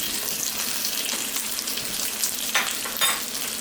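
Steak sears in a hot pan alongside bacon and garlic, a bright, continuous sizzle and crackle close up with a few sharper spits.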